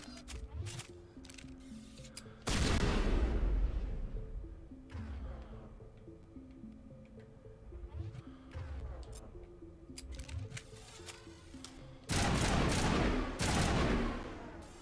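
Shotgun blasts ring out in the sci-fi shooter Mass Effect Legendary Edition, with two loud, heavy booming bursts standing out against ongoing combat effects and a music bed.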